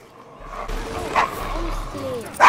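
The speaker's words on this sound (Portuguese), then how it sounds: "tem um cachorro letal aqui, fortemente armado, com dentes." A guard dog in the Assassin's Creed Syndicate video game gives a few short yipping barks and a whimper, moderately loud over background game music and voices.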